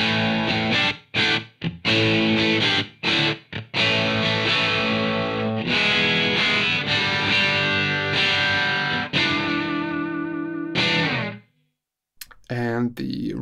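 Distorted electric guitar through a Two Notes Torpedo Captor X load box with a simulated Ribbon 121 microphone, loud riffing with stop-start chugs, sustained chords and sudden breaks, ending in silence and then a brief squealing burst.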